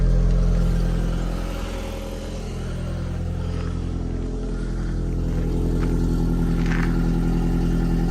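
An Audi TT engine idles steadily after a stainless steel downpipe upgrade, a continuous low rumble with a slight dip in level midway, heard alone without talk.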